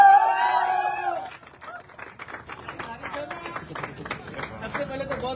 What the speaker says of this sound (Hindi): तो एक जोरदार तालियां हमारे sapphire leader Chandradhari Rajbhar sir के लिए।